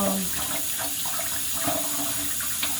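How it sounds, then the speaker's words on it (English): Tap water runs steadily into a sink while fresh cilantro is rinsed, a close, continuous splashing hiss with small shifts as the herbs are moved. "let's wash the cilantro really good"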